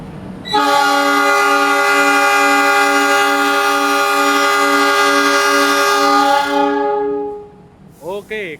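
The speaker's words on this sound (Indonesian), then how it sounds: "KLB uji coba Argo Dwi Pangga New Generation dan 3 kereta luxury diberangkatkan pulang kembali ke Solo balapan." The Argo Dwipangga New Generation luxury train departing, a long loud multi-tone horn blast held for about six seconds, fading out, followed by brief wheel and rail noise close by.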